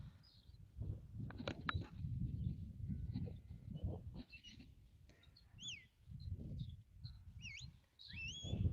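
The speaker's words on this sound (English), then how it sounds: "That's an away whistle." A shepherd's high whistle commands, an away signal to a sheepdog working sheep, ring out as several rising and falling tones over steady low outdoor rumble and movement noise.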